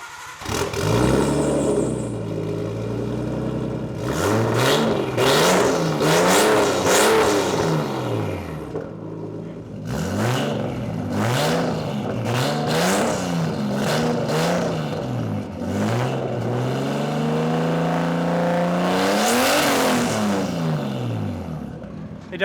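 A JDM Nissan Laurel engine fires up and is revved repeatedly, its loud, old-school tone rising and falling in long sweeps close by, with people talking now and then.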